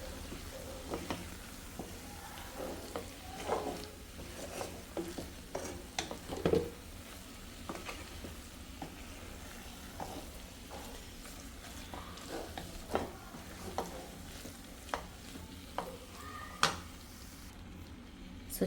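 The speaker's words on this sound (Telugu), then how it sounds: "సో వేగిపోయే వరకు, అంటే పచ్చివాసన పోయే వరకు వేయించుకుంటాం." Chicken frying with chili powder in a pan for a Sunday special, a steady soft sizzle running throughout with scattered clicks and scrapes of a spoon stirring, fairly quiet and close, no talking.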